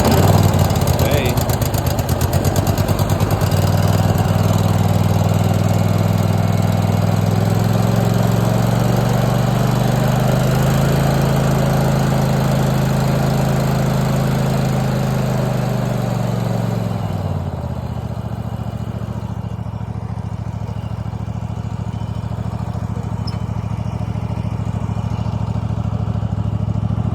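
An abandoned riding lawn mower with 778 hours on it runs loud and close, its engine rising and settling into a steady droning idle before dropping to a lower, quieter hum, while people talk now and then.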